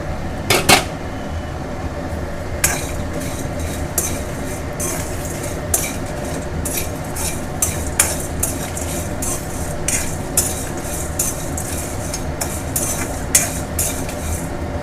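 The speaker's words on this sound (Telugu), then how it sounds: "కొంచెం ఇలా కడాయి తీసుకుని ఇవన్నీ ఒకసారి ఫ్రై చేసుకుందాం లైట్గా" Dry red chillies and spices are lightly fried and stirred in a kadai with a steady soft sizzle. Repeated scraping and clinks of a metal utensil against the pan run throughout at close range.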